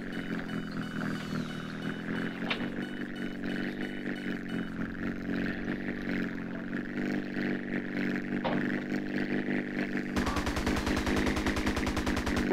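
Sustained machine-gun fire from military Hydra jets in GTA San Andreas rattles steadily over a droning engine, growing into a dense, harsh burst near the end, with no talk over it.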